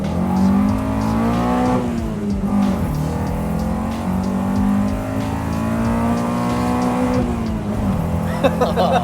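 A 3.2-litre four-wheel-drive sleeper car accelerates hard in first gear, its loud engine note climbing steadily with a gear change near the middle, then pulling again, close and continuous.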